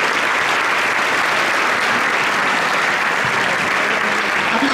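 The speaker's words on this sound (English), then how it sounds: "Another round of applause for Henry Kay" An audience claps for a bass trombonist at a concert in a winery, a dense, steady, loud applause that holds evenly from start to finish with no break.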